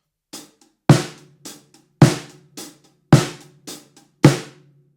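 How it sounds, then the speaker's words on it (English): A dampened, low-pitched snare drum plays a steady groove, strong thuds alternating with lighter ghost hits, dry and close with no voices. "if I put that on my snare drum, it instantly lowers the pitch"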